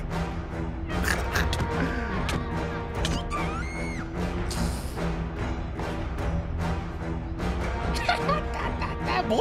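A cartoon puppy from Crayon Shin-chan barks and whimpers in short yips, set against a busy, loud music track with crashes and thwacks.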